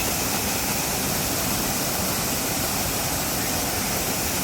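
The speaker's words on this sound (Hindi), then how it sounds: "ये बराबर में जो है वो वाटरफॉल है।" A small waterfall by Brant Street Pier on the Burlington lakeshore rushes as a steady, dense broadband roar with no pauses and no voices.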